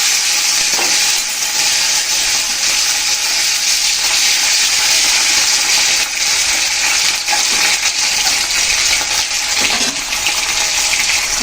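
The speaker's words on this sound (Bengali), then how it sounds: "ফোড়নটা ভালো করে ভেজে নিয়েছি এখন দিয়ে দিচ্ছি সেই মাছ" Hilsa fish is set into hot spiced oil tempering, and it crackles and sizzles loudly and continuously from close by, with a faint watery hiss underneath.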